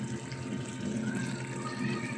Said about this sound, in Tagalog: So, nilagyan ko din ng konting tubig.